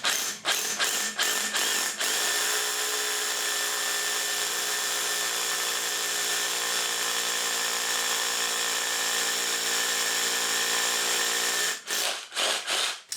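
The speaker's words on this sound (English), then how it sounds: "centred into the pilot hole that we've already drilled before drilling the hole" A power drill runs continuously into an insulated wall through a pilot hole, starting and stopping in short bursts at the beginning and end, loud and close.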